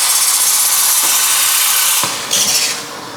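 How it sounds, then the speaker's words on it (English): Espresso machine steam wand purging over the drip tray, a loud, steady hiss of steam that dips briefly, surges again and then tails off as the wand shuts off. "Knock it back to the drip tray, switch it on, just purge."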